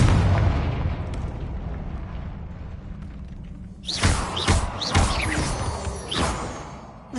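A Confringo spell blast from the Hogwarts Legacy video game, with a rumbling low background that gives way to a sequence of sharp, bright explosive bursts and crackles about four seconds in.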